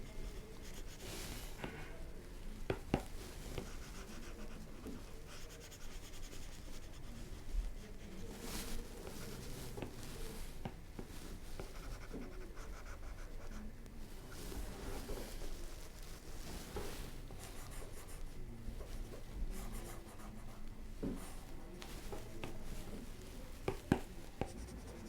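Pencil lines being erased on paper while drawing 3D forms, a steady soft scratchy rubbing that continues for a long stretch with small pauses, close and quiet.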